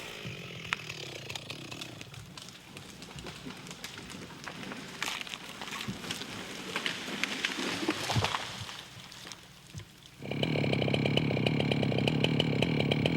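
A chainsaw cuts the back cut while felling a tree, starting as a low, rough grind through wood and rising after about ten seconds into a loud, steady high-revving engine whine, close by.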